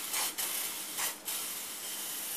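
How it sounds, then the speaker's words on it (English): Two short hissing bursts from a small aerosol can paint sprayer fed from a bottle of mixed paint while repainting a Coleman 220 lantern, each burst about a third of a second, close and clear with quiet between them. "It sprays just like a rattle can."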